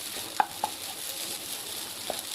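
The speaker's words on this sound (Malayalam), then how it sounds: "ഇനി ഇതിലേക്ക് നമ്മൾ നമ്മുടെ വെജിറ്റബിൾസ് എല്ലാം ആഡ് ചെയ്ത് കൊടുക്കാൻ പോവാണ്. എല്ലാം കൂടി ഒരുമിച്ച് മിക്സ് ആക്കാൻ കേട്ടോ." Egg and vegetables stir-frying in a pan with palm oil, a soft continuous sizzle broken by a few sharp clinks of a spatula against the metal, close and fairly quiet.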